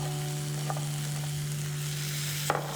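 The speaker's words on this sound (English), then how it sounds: "Give it a good stir." Finely chopped ginger, diced garlic and curry leaves sizzle in a pan with chopped tomatoes and are stirred. A steady frying hiss sits over a low constant hum, with a couple of brief scraping stirs.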